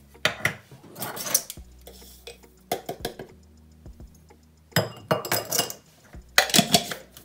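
A spoon clinks and scrapes against a small bowl or cup while coffee grounds are scooped and stirred for a scalp scrub, in irregular bursts of tapping and clattering with quiet gaps between.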